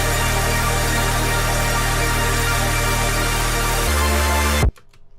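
Loud, dense airy saw-wave synth pad from a song, a wide bright wash holding steady with a low bass layer, shifting near the end before cutting off abruptly into near silence.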